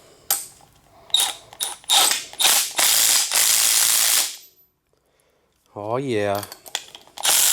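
A Milwaukee M12 Fuel power ratchet tightens fuel pump fittings with loud, close bursts of rapid buzzing clatter, several short runs then a longer one, followed after a pause by a brief tonal whir; someone speaks briefly.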